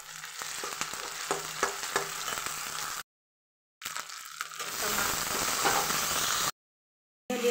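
Onions sizzling and frying in a pan for a mixed vegetable curry, a steady close hiss with stirring scrapes, broken by two short silent gaps.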